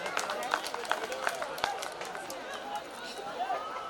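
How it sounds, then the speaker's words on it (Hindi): Crowd clapping at a foundation's talent award ceremony, steady scattered applause with sharp individual claps, moderately loud and continuous, with faint chatter underneath. "एक बार जोरदार तालियां होनी चाहिए।"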